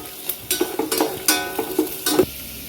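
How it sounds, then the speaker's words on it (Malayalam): Finely chopped ginger and garlic sautéing in a pan for chicken stew, a light sizzle broken by several quick spoon scrapes and stirs, close and without talk. "ഇതൊന്ന് ജസ്റ്റ് ഒന്ന് വഴറ്റിയെടുക്കുന്നിടം വരെ നമുക്കൊന്ന് വെയിറ്റ് ചെയ്യുക"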